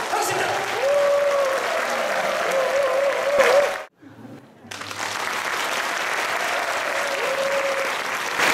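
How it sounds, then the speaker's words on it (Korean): A Catholic choir festival audience claps warmly to open the conductors' special stage. The sustained applause cuts out abruptly midway, then resumes at a softer level, with faint tonal voice-like sounds above it. "그 어디에서도 들어볼 수 없는 지휘자분들의 특별한 무대 큰 박수와 함께 시작하겠습니다"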